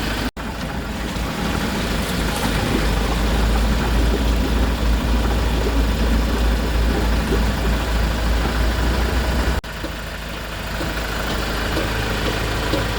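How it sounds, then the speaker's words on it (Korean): A used car engine with a recently replaced cylinder head idles steadily while its coolant is flushed, a loud close rumble that runs without a break apart from a brief dip near the end. "엔진 소리는 굉장히 부드럽고 좋으네요."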